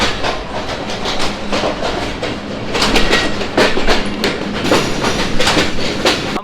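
Nakshikantha commuter train on the Khulna to Dhaka run, heard from inside: loud continuous rumble with rapid rhythmic clickety-clack of wheels over rail joints, swelling slightly midway, no voices.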